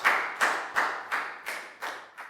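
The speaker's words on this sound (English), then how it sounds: "A round of applause for everyone for doing a great job." About seven regular, crisp claps from a classroom applauding everyone after a Year 4 maths activity, close and even in rhythm, with no talking.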